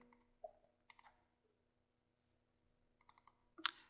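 Mouse clicks on a computer during invoice approval software use: a few quick, light, close clicks in small clusters with quiet gaps, the last one slightly louder.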